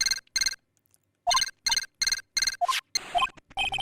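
A telephone rings in the Phoenix Wright: Justice for All game at the Wright and Co. law office. Short electronic ring bursts repeat in a steady on-off pattern, joined near the end by beeping game blips.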